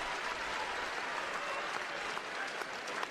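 Arena crowd applauding at an NBA basketball game between the Golden State Warriors and Dallas Mavericks, a dense, even roar of distant clapping and crowd noise throughout.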